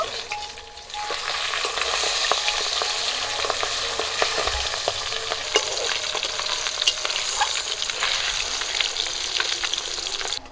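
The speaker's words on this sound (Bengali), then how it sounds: "মাছগুলো ভাজা হয়ে গেছে, তুলে নেব।" Pabda fish frying in a pan give off a constant close hiss of sizzling oil, sprinkled with sharp pops and spits and occasional soft stirring sounds.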